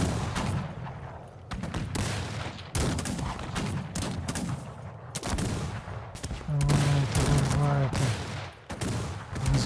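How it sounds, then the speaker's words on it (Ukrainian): Cannon fire in the strategy game Cossacks 3: repeated loud booming volleys and gunfire bursts across a battle, with a voice and game sounds mixed in near the end. "Гармати, здається, стріляють."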